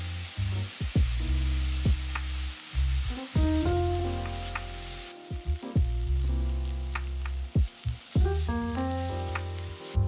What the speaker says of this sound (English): Then I'm going to put it in a skillet with a little bit of oil